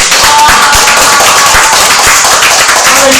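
A church congregation claps together after a sermon remark, a loud, dense run of hand claps that carries on steadily with a few sharper beats and faint voices underneath.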